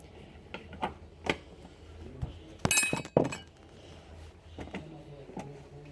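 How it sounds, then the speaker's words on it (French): Metal grate set back into a cooking pot, a few sharp clinks and clattering knocks of metal on metal, with one louder rattling burst in the middle, close up against a quiet background. "On remet la grille."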